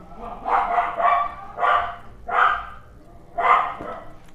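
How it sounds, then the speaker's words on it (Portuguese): A dog barks four times in evenly spaced bursts, each a few bark pulses long, fairly close and loud, with no talking over it. "Cachorro latindo."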